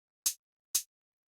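A hi-hat sample plays on the upbeats, two short crisp hits spaced evenly apart, dry and close with silence between them.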